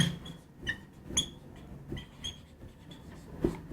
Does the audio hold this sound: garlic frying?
no